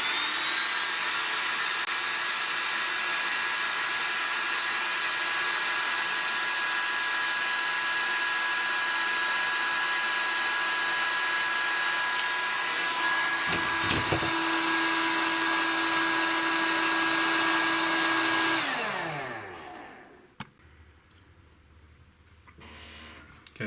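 A heat gun warming airsoft battery wiring runs as a steady, loud blowing whine, then switches off and winds down, leaving near quiet with a brief click.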